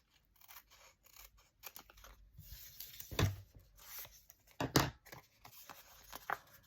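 Scissors trimming a paper tag down to about 4.5 wide for handmade ephemera, giving quiet, uneven snips and paper rustles with a couple of louder cuts close by and no talking.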